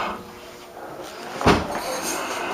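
An apartment building door opens with a single sharp clunk of the latch midway, amid quiet outdoor background hiss.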